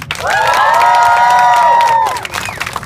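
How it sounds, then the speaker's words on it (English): A street-performance crowd at Fisherman's Wharf claps, cheers and whoops loudly in a sustained burst of about two seconds, then fades into scattered shouts. "clap your hands and make some noise"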